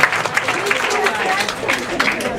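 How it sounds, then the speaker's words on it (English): Applause from fitness workshop participants after a timed exercise, scattered clapping mixed with crowd chatter and voices. "Give yourselves a round of applause."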